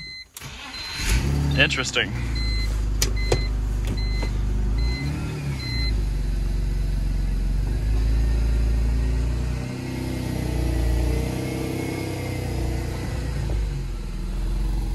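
A car engine cranks and catches, then settles into a steady low idle, with a few clicks and chimes early on and someone speaking briefly.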